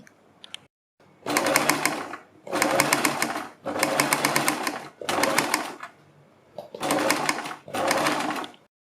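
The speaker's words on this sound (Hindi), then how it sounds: "सीधी साइड को पलटने के बाद हम सबसे पहले इसके किनारे पर एक सिलाई लगाएंगे" A domestic sewing machine runs in six steady bursts with short pauses between them, stitching along the edge of a cold-shoulder sleeve; close and loud with a brief knock just before the first run.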